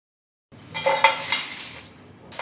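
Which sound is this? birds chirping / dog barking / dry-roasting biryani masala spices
dry-roasting biryani masala spices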